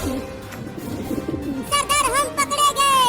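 Pigeons trapped under a thrown net, with a busy muddle of cooing and flapping bird sounds that turns into loud, warbling calls over the last half of the clip, all close by.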